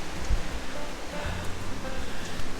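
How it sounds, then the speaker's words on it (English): Steady rushing water from a waterfall at a forest falls on Tasmania's West Coast, a continuous broadband roar heard at a distance with brief low bumps, no speech. "And in the background you can hear the waterfall."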